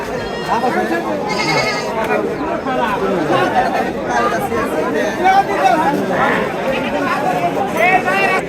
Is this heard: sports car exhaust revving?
no